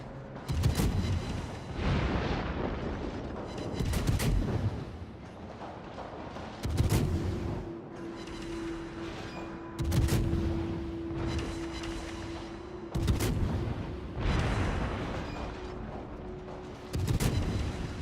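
Naval guns fire in a video game battle replay, heavy booming salvos repeating every few seconds over a constant loud rumble of battle noise, with no talk over them.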